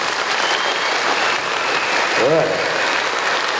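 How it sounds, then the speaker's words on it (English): Audience clapping as loud as they can during an orchestra demonstration: a dense, loud, continuous wall of applause runs the whole time, with a brief voice cutting through near the middle. "For the next 5 seconds, I want you to clap as loud as you can."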